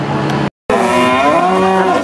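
Cows mooing at a livestock breeding show, a loud close low bellow with rising harmonic tones following a brief silent gap, with no talking.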